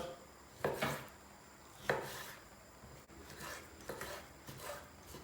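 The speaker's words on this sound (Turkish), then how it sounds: "Sıra geldi tavuğun doğramaya." A knife chops raw chicken into cubes on a board in irregular strokes, four or five dull knocks with scraping between, close and fairly quiet, no talking.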